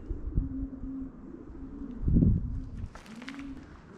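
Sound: birds, likely pigeons, in an abandoned factory

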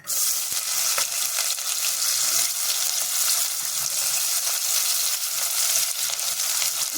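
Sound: shallots frying in hot oil

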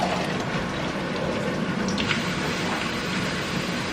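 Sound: draining the liquid from peas

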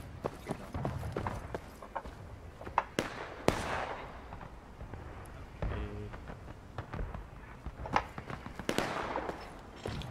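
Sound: artillery firing in the video game War of Rights

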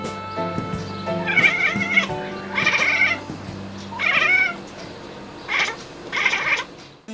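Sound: Scottish breed cat meowing

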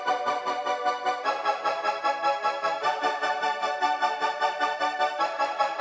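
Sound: Dark Synth Brass layered with Nexus Dark Horns 2 preset

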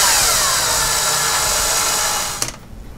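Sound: pre-tapping screw holes in RC car chassis

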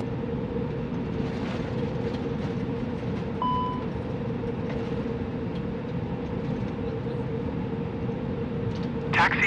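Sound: aircraft taxiing to gate in video game Microsoft Flight Simulator 2020

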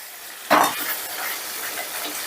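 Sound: sautéing masala paste with cashews in a kadai

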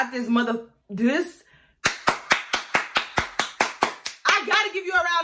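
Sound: hand clapping, a round of applause

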